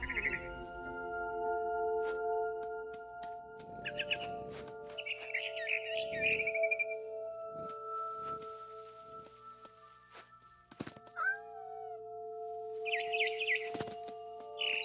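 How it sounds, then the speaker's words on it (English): A barn swallow chirping outside a window in the video game What Remains of Edith Finch, with short bright chirps and twittering bursts scattered over a quiet ambient music bed. "Then I heard chirping outside my window. It was a barn swallow going back to her nest."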